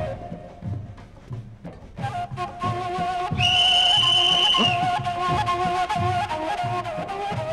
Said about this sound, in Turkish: Düdük çalmasana.